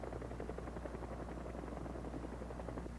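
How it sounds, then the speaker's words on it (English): Helicopter engines run with a steady, low, throbbing drone and a faint rhythmic rotor pulse. The sound is continuous and constant, with no voices over it. "At all times, helicopter engines are being started or are running."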